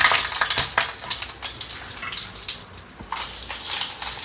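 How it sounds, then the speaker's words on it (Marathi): Green chillies roasting in a pan give a busy crackling sizzle with sharp pops and stirring scrapes, steady and close, with no voices. "मिरच्या भाजून घेणार आहोत"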